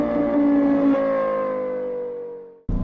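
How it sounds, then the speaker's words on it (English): A 2022 Acura MDX Type S with its turbocharged 3-liter V6 gives a sustained tonal engine note that slowly winds down in pitch, then cuts off abruptly near the end. "the star of the show, which is this 3-liter V6 that's turbocharged, 355 horsepower, 354 pound-feet of torque"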